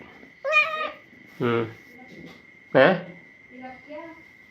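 A cat meows several times in short, separate calls, close by, with quiet pauses between them and a steady faint hum underneath.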